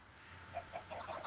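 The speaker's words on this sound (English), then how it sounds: "1 egg spawned 4 baby chickens." Short, soft chirping clucks from baby chickens in Minecraft, a few quick peeps in a row over a low steady hum, fairly close.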